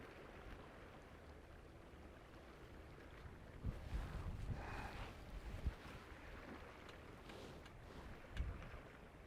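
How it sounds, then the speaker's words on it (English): Wind gusting across fishing rods set up on an east coast beach at East Halton, a steady broadband rush with a few louder gusts and faint knocks, no voices. "No, I think it's just wind on rods."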